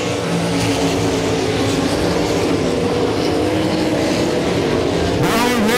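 305 sprint cars racing at RPM Speedway, a loud, continuous roar of engines blending as the pack circles the dirt track, with a sharper engine passing close near the end.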